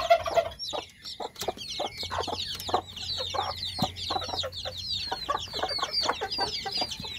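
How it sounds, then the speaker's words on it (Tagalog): Two-day-old black meat chicken chicks in the Philippines peep constantly in a dense, shrill chorus of rapid overlapping chirps, close by and with no talking. "2 araw pa itong mga sisiw nila"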